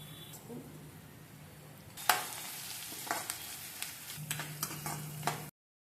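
Ajwain seeds and salt frying in a pan give a soft sizzle, then a run of sharper scraping stirs and taps of a utensil against the pan, close and moderately quiet, with no talking.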